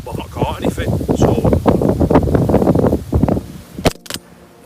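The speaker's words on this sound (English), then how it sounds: "that's how windy it is." Strong gusts buffet an outdoor microphone at Commonwood Fishery during a carp fishing session, a rough low rumble surging and fading for several seconds before a couple of sharp clatters near the end.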